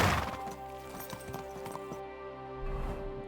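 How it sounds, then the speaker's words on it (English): A horse in Kingdom Come Deliverance 2 clip-clops in a run of hoofbeats, with a brief snort or whinny-like breath. The sound is fairly quiet and close, with no talking over it. "Oh, it's our horse."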